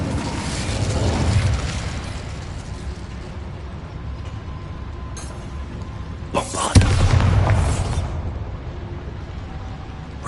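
An Incendio fire spell blast from Hogwarts Legacy on PS5 gives a steady roaring rumble that swells twice, the second swell opening with a sharp booming hit.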